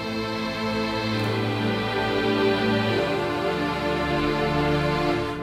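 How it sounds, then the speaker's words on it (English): A full string section from Dimension Pro virtual instruments in SONAR plays sustained, layered chords with a shift in harmony midway, steady and fairly loud with no voices. "so what you're hearing here is a full string section, a real string section."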